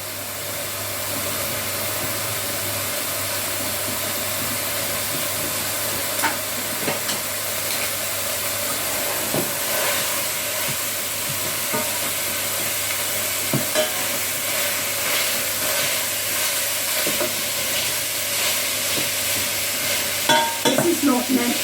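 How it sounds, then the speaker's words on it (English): Steady, dense sizzling and crackling of meat browning in a hot pot for Texas chili continues throughout, with occasional louder pops and spits, close by. "it is getting hot because we can hear the sizzling."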